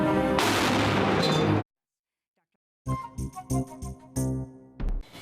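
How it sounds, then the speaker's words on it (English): Airstrikes and explosions in Syria, loud booming blasts and cracking bursts in two separated spells with a sudden silence between them, each hit sharp and forceful. "There's lots of airstrikes today, right?"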